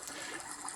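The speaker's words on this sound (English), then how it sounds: "This is the sound of some bubbling water." Bubbling water played back as a test file through a theatre sound system, a steady continuous trickling wash with no pauses, alone and fairly quiet throughout.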